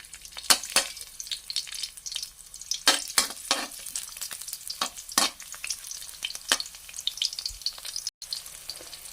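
Crushed garlic stir-fried in hot oil in a home kitchen, close sizzling broken by frequent sharp scrapes and clacks of a spatula against the pan in an irregular rhythm, with no voices.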